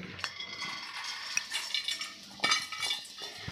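Moth beans sautéing in a little hot oil in a kadhai, with a soft sizzle under scattered metallic clinks and scrapes of a spoon stirring against the pan, close and fairly quiet.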